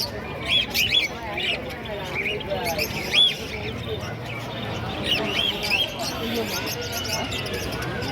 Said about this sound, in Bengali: সব ধরনের পাখি এখানে নিয়ে বসেছে